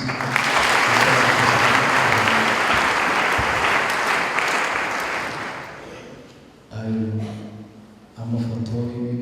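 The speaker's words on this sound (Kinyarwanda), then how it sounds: "dukomere Imana amashyi" A congregation claps loudly and continuously at a church fellowship's fifteenth anniversary and farewell party. The applause fades after about six seconds, and voices and music follow.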